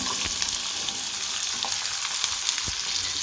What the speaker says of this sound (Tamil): இப்போ இதே எண்ணெயில் நம்ம கட் பண்ணி வச்சுருக்க சின்ன வெங்காயத்தை இதில் சேர்த்துருவோம்